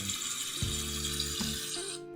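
Water runs steadily from a tap into a sink while organic spinach is washed in water and white vinegar, with a continuous close rush and a few soft low thumps from handling.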